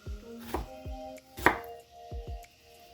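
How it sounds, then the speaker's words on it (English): A knife chops an onion on a cutting board in a home kitchen, with about six or seven separate, close, crisp strikes at an irregular pace and quiet gaps between them. "Also cut the onion in half"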